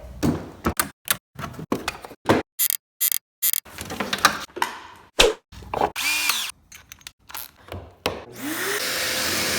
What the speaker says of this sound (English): we're gonna attach all these together with pocket holes. So cue the pocket hole B-roll.